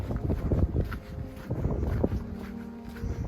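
Steady gusting wind rumbles and buffets the microphone on an open, exposed stretch of hiking trail through broom, with faint footsteps and shifting noise throughout.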